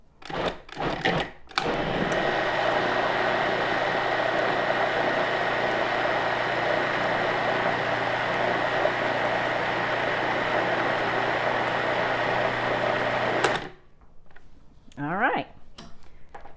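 A food processor blending carrots whirs loudly and steadily for about ten seconds after a few brief clatters, then cuts off, leaving faint room noise.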